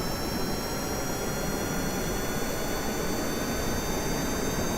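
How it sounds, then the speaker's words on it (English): An aircraft jet engine runs in Kerbal Space Program, a steady, loud, close roar with a high whine, holding constant throughout with no talking. "So let's activate the engine and turn off the brakes."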